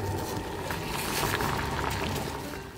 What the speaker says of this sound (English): In a pot with boiling water, add a pinch of salt and blanch the cabbage first.